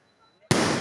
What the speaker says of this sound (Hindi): ये आतिशबाजी जो आप देख रहे हैं ये विधायक जी के सम्मान में